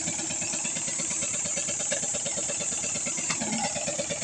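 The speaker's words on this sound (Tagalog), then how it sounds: "Ay, motor tubig. Motor." A motorized water pump used for irrigation runs steadily at close range on farmland, its engine giving a continuous rhythmic idling chug with a faint knocking pulse throughout.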